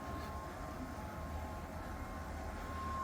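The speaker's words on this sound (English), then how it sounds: "the locomotives with 4 train motors is readily capable of running the train up the grade" A low, steady rumbling hum of a Lego Union Pacific M-10005 streamliner train running continuously on a layout, driven by four train motors, with a faint, even mechanical drone and no voices.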